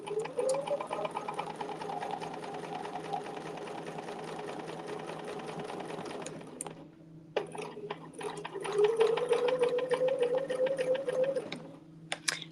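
A sewing machine runs steadily while stitching a quilting design on a slick surface, a fairly quiet, even whir with fast needle ticks. It stops briefly midway, then resumes and ends with another short pause.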